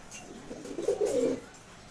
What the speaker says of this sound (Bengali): এখানে সবগুলো নর কবুতর রাখছি